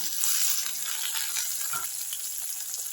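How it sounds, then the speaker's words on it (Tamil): Onions and tomatoes sauté in a pan for mutton liver pepper fry, giving a soft, continuous sizzle with faint stirring scrapes, fairly quiet and without speech. "இது எல்லாத்தையும் நல்லா வதக்கி விட்டுக்கலாம்"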